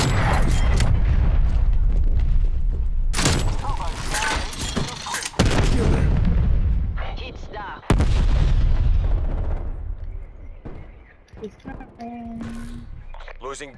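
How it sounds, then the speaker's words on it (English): Artillery strike in the video game Black Ops Cold War during a Domination match: a barrage of loud, heavy booms and blasts in quick succession, mixed with gunfire and in-game radio voices. "Taco, Vargas ordering artillery operation."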